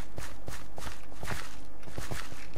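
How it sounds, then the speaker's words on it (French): Footsteps in Minecraft Hunger Games, a regular run of crisp, close steps at a walking pace, each a sharp percussive tap against a faint background hiss. "j'entends des bruits de pas"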